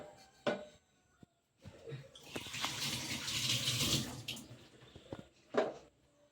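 Running water splashes and gurgles for a few seconds as chicken pieces are rinsed in a sink, with a few knocks and clatters before and after.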